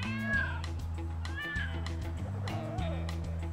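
A cat meows several times in quick succession, picked up by a home cat camera, with rising and falling cries over a steady background music bed.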